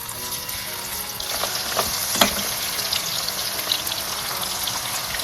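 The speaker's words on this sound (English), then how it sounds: "So I have kept the oil on fire, and I will be frying all the fish." Fish fry in batches in hot oil for a fish pickle, a continuous close sizzling hiss with occasional crackles and pops.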